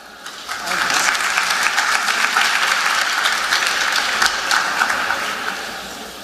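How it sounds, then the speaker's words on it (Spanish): Seated listeners at a talk on natural help for infertile couples applaud the doctor; loud, close clapping swells in after a brief quiet start, holds steady and then tapers slightly toward the end. "Un aplauso para el doctor."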